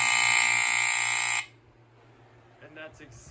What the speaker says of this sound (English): I'll demonstrate the AC buzzer real quick for you guys.